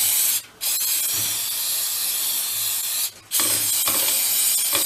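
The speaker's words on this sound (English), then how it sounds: "Let's try some brake clean first, see if we can like rinse out any crap that's in there." Brake cleaner hisses as it is sprayed into the wheel of an old VéloSolex moped, a loud continuous aerosol spray broken by two short pauses.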